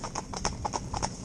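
Hooves of two Gypsy Cob horses driven in tandem clip-clop in a quick, even rhythm, moderately close, with faint voice or breath sounds in the background.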